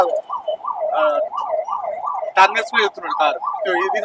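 A wailing ambulance siren rises and falls steadily in Karimnagar traffic, loud and close, with someone talking over it and bursts of traffic noise partway through.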